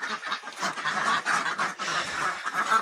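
Ducks on a small backyard farm quacking and honking in a busy overlapping chorus, close and steady throughout the short stretch.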